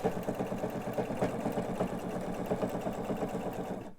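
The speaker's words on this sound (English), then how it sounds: "I've been sewing all the way around, and I'm almost back to where I started." A sewing machine runs steadily while topstitching around a pillowcase, a close mechanical whir with a rapid, even needle rhythm for about four seconds before stopping abruptly, no voices.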